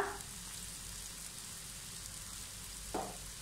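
Onion with chilli powder, garam masala and pepper sautéing in a pan, a steady low sizzle throughout with a brief stirring scrape near the start and another near the end.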